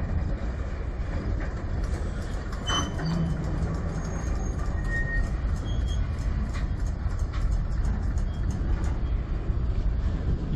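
A CN manifest freight train rolls eastbound through Sarnia, Ontario, its cars rumbling and clanking steadily past at close range, with brief squeals and metallic ticks over the continuous roar.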